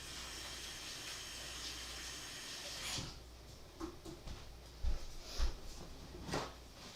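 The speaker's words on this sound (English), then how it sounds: "Let me wash my hands." Running tap water pours steadily in a home kitchen for a few seconds while hands are washed, then cuts off, leaving quieter handling knocks and a couple of soft thuds nearby.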